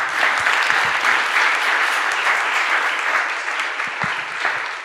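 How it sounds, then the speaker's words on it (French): A seated audience at an ecology and work conference in Grenoble breaks into sustained, dense applause that holds steady for the whole stretch, with no voices over it. "On peut l'applaudir une nouvelle fois."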